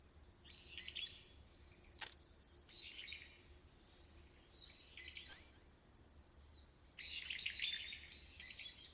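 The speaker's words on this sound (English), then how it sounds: "Okay, there is a bird." Bird calls in the jungle of Metal Gear Solid 3, with scattered faint chirps and twittering phrases recurring every second or two over a quiet, hissing background, growing busier toward the end.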